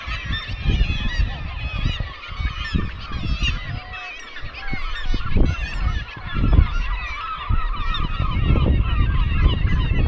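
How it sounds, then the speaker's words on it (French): Many birds call at once along a coastal hiking trail, a dense flock of loud honking, squawking cries overlapping in irregular bursts with low gusty rumbles beneath, close and continuous. "C'est des mouettes."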